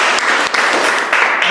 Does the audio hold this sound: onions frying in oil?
no